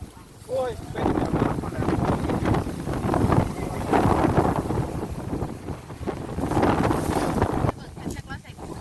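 Wind buffets the microphone in steady low rumbling gusts, with people talking throughout and a brief quieter stretch near the end.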